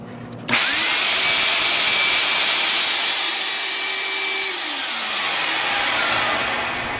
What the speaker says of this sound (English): when the fan motor pulls air in, there's only one way for the air to get out